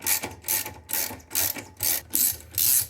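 A ratchet with a 7/16 socket loosens the agitator bolt inside a washing machine, giving about seven close, crisp bursts of rapid clicking in an even back-and-forth rhythm.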